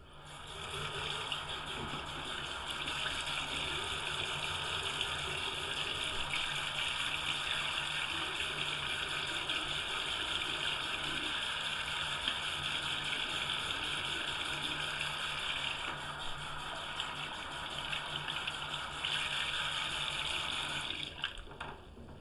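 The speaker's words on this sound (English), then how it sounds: "staff will prompt Beth to complete all steps of hand washing except for turning off the water" Tap water runs steadily from a faucet during hand washing, a continuous hiss and splash at moderate level with faint background sounds, and no clear talk.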